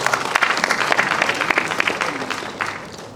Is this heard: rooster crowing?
no